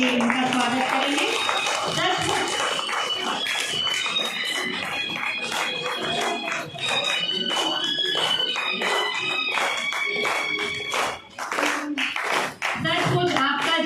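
Rhythmic group clapping at a Teacher's Day school function, welcoming a guest, sounds steadily through the full stretch together with singing and music over a loudspeaker, with a few brief dips near the end.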